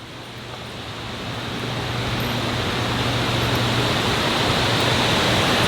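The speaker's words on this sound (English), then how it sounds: "Welcome to Ladder Creek Falls and Gardens." A dense, steady roar of falling water at Ladder Creek Falls in the Cascades swells slightly over the first seconds, then holds loud and unbroken.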